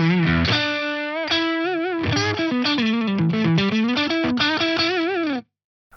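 Electric guitar driven through a Crazy Tube Circuits Crossfire preamp and overdrive set to asymmetric clipping in its higher gain mode, playing a loud, sustained distorted melodic phrase with bends and vibrato before cutting off abruptly near the end.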